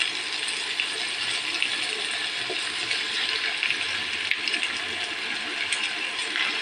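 Liquid pours steadily into a pan of vegetable-only pancit guisado with beef Knorr cubes, a continuous splashing, trickling wash running at even loudness throughout, close by.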